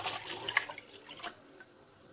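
Two cups of milk poured into a cooking pot for a dessert, a brief close splashing pour that fades out after about a second and a half, with no talking.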